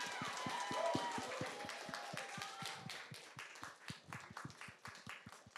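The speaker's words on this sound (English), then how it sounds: "give yourself a round of applause" Audience at a student project showcase gives a round of applause, a quiet, distant patter of scattered claps that thins out toward the end.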